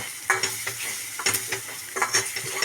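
Masala and spice paste for jackfruit curry sizzling in a pan, with a spoon stirring and scraping in several close, irregular strokes over a continuous fry hiss.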